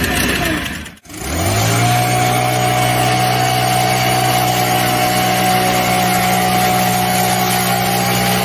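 An electric leaf blower switches on and runs on its lowest setting, giving a loud, steady whirring hum with a constant tone after a short break at the start, and no voices.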